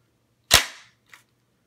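A magazine drops free from a Tavor rifle fitted with a Podium magazine release: one sharp, loud metallic clack, then a smaller click about half a second later, with no talking.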